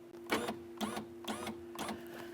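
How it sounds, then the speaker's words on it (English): A power window regulator motor runs inside the door of a 2012-2015 Honda, giving four evenly spaced whirring bursts with a steady hum between them. The sound is close and fairly quiet. "Now we're going to power down the window regulator. You may hear a noise inside of here"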